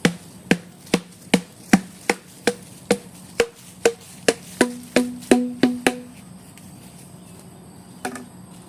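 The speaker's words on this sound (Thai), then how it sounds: "เดี๋ยวผมจะเคาะดินที่มันติดกับท่อนำนี้ออกก่อนนะครับ" Sharp knocks on a fertilizer delivery pipe to shake off clinging soil, about a dozen evenly spaced hard taps that speed slightly toward the end, then pause before one last knock, close and loud.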